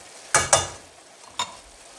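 Shrimp fry in a pan for a seafood linguine with smoked paprika, heard as two quick loud sizzling bursts close together and a third a moment later, each fading fast into near silence.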